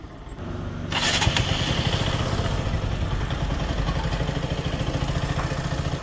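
A BS6 motorcycle engine at a pollution testing centre cranks and catches after a brief quiet start, then settles into a steady, close, rhythmic idle that continues to the end.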